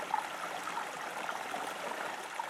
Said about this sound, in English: And look what we have in front of us. A running creek.